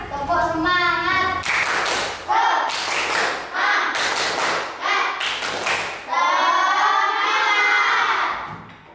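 Sixth-grade children in a classroom perform the tepuk semangat spirit clap, bursts of sharp unison claps in a rhythmic pattern alternating with group chanting voices, loud and close.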